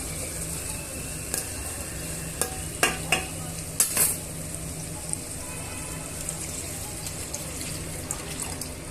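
A spoon stirs tamarind extract into a hot pan of tempering with curry leaves, giving a steady wet sizzle and hiss broken by a few sharp scrapes and clinks, close up, with no speech.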